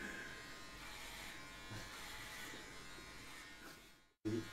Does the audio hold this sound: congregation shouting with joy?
no